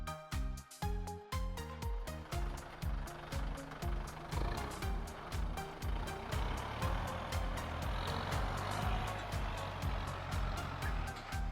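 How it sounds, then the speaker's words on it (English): A tractor pulling a square hay baler chugs and thumps in a steady rhythmic pattern, the baler's plunger adding repeated heavy knocks over the engine drone, loud and close with no talking. "Tractor with square hay baler."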